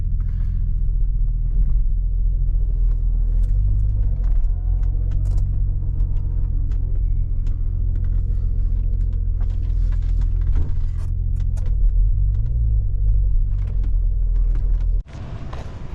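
A steady, loud low engine rumble comes from an Audi S4 with a reinstalled turbo engine while it drives and the driver tries to build boost. Faint clicks and rattles sit over it, and a sharp shift comes near the end.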